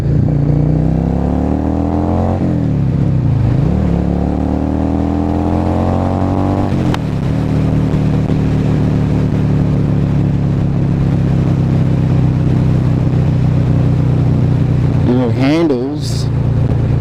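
Yamaha Dragstar 650 motorcycle engine running loud and close, rising and falling in pitch with revs early on, then holding a steady throbbing hum, with a couple of quick throttle blips near the end.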